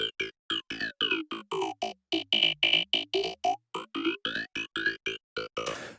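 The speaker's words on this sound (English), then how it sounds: "I want this LFO, which is modulating the cutoff, to modulate the frequency of the phaser" A buzzy psytrance synth lead plays short rhythmic notes, with an LFO-driven phaser swirl that rises and falls through the tone. No voices.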